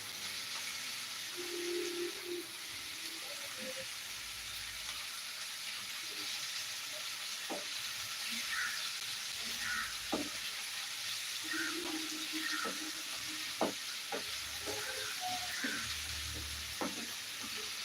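Food sizzling in a pan under a soft, steady hiss, with scattered clicks and scrapes from a stirring spoon, quiet and nearby with no speech.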